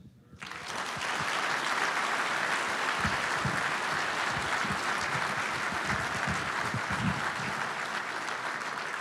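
A large room at a logistics awards dinner breaks into a round of applause that swells within the first second and then holds as a dense, sustained roar of clapping.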